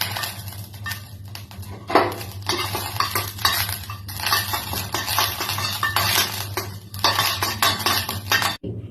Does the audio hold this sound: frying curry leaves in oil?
yes